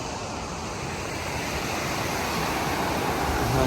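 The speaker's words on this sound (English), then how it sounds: "Nice little weir just here." Water pouring over a small river weir in Devon, a steady broadband rushing and splashing that grows slightly louder toward the end, close by with no speech.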